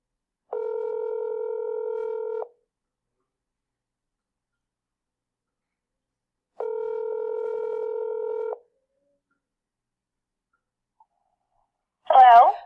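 After an outgoing phone call is placed, two long ringback tones play, spaced by several seconds of silence. A short burst of a voice answering follows at the end.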